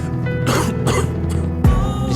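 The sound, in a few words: coughing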